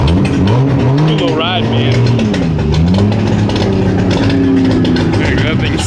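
A car at a Texas car show with an aggressive cam revs up and down in a loud, lumpy, uneven idle, with pitch swooping between revs while someone talks over it.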